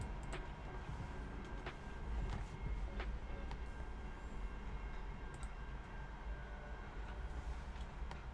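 A train passes in the distance, a faint, continuous low rumble with scattered light clicks and ticks over a steady background. It stays even in level for several seconds, and no one speaks.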